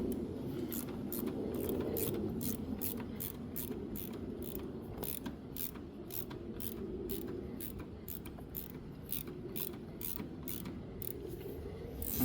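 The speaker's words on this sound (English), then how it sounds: "3/4 wrench for these two." A 3/4 wrench ratchets on clamp bolts of a Gravely 812 tractor, making rapid, evenly spaced close clicks in a long steady series with faint mechanical creaks underneath.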